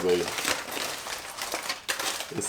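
A foil pack holding a cooked pork butt crinkles and crackles up close as it is handled on a sheet pan, in a few short rustling bursts.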